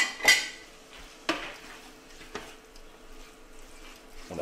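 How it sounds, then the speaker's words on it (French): Sardines frying in oil in a pan with garlic and chili, a soft steady sizzle beneath a few sharp clinks of a utensil against the pan, close up, with no talking. "On rajoute les sardines à la préparation d'ail et de piment. Et pareil, on va les faire revenir"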